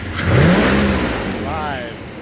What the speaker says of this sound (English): Hit the throttle a couple times.